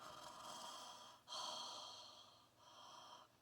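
A voice imitates a husband's loud nighttime breathing: three long, noisy, airy breaths in a row, close and fairly soft.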